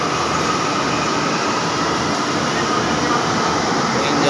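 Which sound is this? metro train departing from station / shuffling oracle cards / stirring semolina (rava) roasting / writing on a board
metro train departing from station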